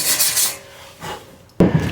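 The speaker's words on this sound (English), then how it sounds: "you can just sand on for hours. You're just not going to get through that powder coat" Rough abrasive sanding against powder coat on a bicycle frame, heard as a few short raspy rubbing strokes followed by a louder scraping burst, close up with no talk.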